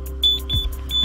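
A fishing bite alarm set up beside rods emits three short, loud, high electronic beeps at an uneven pace while its tone is adjusted, over a low outdoor rumble.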